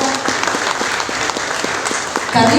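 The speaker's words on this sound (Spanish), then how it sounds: "Un aplauso para Carlos." Audience applause for Carlos Yurchuk at a UFO outreach conference, a dense steady wash of many hands clapping with a slight swell near the end.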